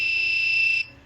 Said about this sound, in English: It just beeps and lights red.